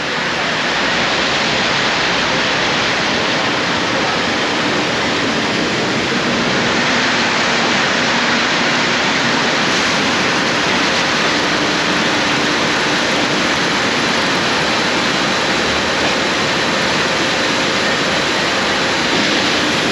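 A citrus packing line rinsing and soaping mandarin oranges fills the space with a loud, steady wash of spraying water and machinery hiss that runs unbroken and evenly from start to finish, with no voices heard.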